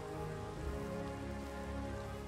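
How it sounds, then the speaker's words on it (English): Rain falls in a video game world, a steady, dense hiss of drops on surfaces that continues evenly throughout. "what amazing timing for the rain"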